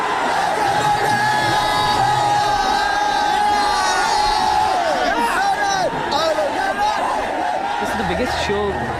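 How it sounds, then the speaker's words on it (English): A huge crowd of around 30,000 Indian metal fans at a concert in India roars and cheers continuously, with shouts, whoops and scattered voices rising out of the loud, dense din. "I don't think you'll hear a louder crowd anywhere in the world"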